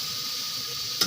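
Spices and fried lentils sizzle in a pan with a steady, bright hiss throughout, ending with a single brief clatter, and no voices.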